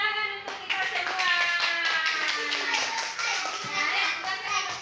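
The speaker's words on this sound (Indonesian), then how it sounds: "Ayo tepuk tangan untuk kita semua." Children in a classroom clap together for their group craft work, a steady patter of many small hands mixed with excited young voices chattering over it.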